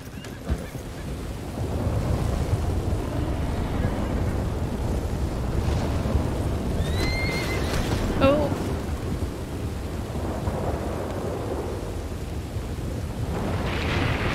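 A horse ridden in Red Dead Redemption 2 whinnies briefly midway, set against steady rumbling rain and thunder ambience with soft hoof movement underneath.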